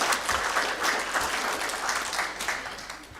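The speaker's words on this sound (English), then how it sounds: "Can we give them a round of applause," Brief round of steady clapping from a convention audience, fairly close and even, tapering slightly toward the end.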